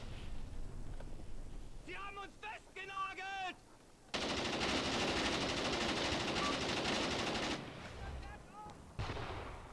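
Machine gun fire pours from an enemy-held hill in a Graviteam war game, with bursts of gunfire and artillery-like booms sustained at close range and short pauses between long stretches of firing.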